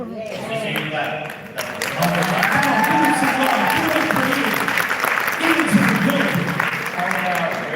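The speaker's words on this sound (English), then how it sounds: "Let me see you clap." Audience at a live real estate event clapping and cheering, a sustained steady wash of applause with voices and talk running underneath.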